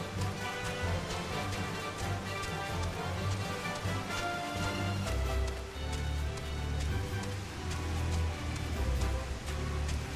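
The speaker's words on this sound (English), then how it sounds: "a lot of rain." Steady rain falls throughout a video game scene, a dense continuous hiss with scattered tapping drops and a low rumbling undertone, fairly loud and unbroken, with no speech.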